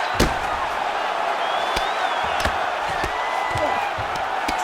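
A virtual arena crowd in the UFC 5 video game keeps up a steady murmur during a fight, with sharp slaps and thuds of strikes cutting through it.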